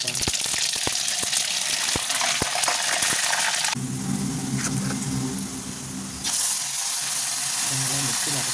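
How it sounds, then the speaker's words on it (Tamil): Steady crackling sizzle of sorrel leaves (pulicha keerai) being tempered in hot oil, with sharp pops early on and a louder burst of bubbling hiss partway through. "புளிச்சக்கீரையை தாளிக்கிறப்பா"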